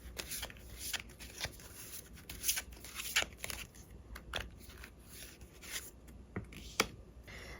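Tarot cards are shuffled and drawn during a weekly fortune reading, a steady run of soft, close riffles, flicks and snaps of card stock, fairly quiet, with no talking.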